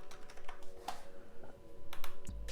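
Quick bursts of typing on a keyboard while a racing name is entered for a livery in a console racing game, with clicks close and fairly loud, ending in a low thump.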